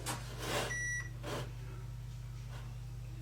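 A WLToys 124301 military RC truck's ESC gives short electronic startup beeps right after the receiver is powered on, a few brief clustered tones close by over a steady low hum.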